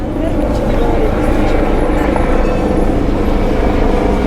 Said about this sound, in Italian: Elicottero che passa sopra.